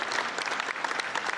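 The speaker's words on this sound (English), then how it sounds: "Kwam1, please give him a round of applause." Dense, steady audience applause at a Nigerian entertainment conference, many hands clapping together at a moderate distance with no voices on top.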